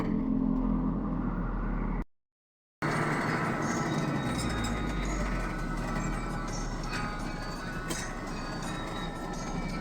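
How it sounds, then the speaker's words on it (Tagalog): Road traffic: a steady, fairly loud rumble and whoosh of passing vehicles, broken by a short moment of complete silence before the din resumes. "traffic na naman"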